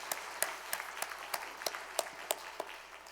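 A church congregation at a Christmas Day service applauds, with sharp, evenly spaced claps sounding in a steady rhythm for a few seconds, fairly close and clear with no talking over it.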